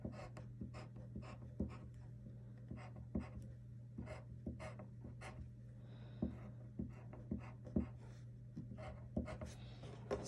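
Pencil strokes scratch across paper while petals are shaded in darker, a steady run of short, dry strokes repeating close and clear over a low constant hum, with no voices.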